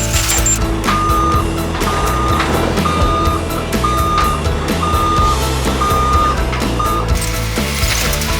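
A wheeled compactor vehicle at a quarry sounds regular reversing beeps, about one per second, loud and close over a heavy diesel engine rumble and mechanical clatter.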